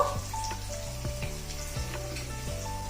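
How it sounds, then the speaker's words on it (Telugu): Green chillies, curry leaves and turmeric fry in hot oil, a steady close sizzle with scattered crackles and pops throughout, no voices. "వీటిని కొంచెం వేగనిద్దాం"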